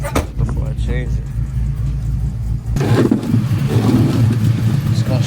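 An LS-swapped OBS Chevy truck rumbles at idle and then pulls forward onto ramps, the engine note swelling into a louder, rougher growl partway through, with a voice heard over the start.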